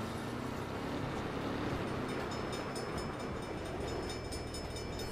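A train rumbles past in the video game Saints Row, a dense, steady roar of rail noise that fills the scene without letup.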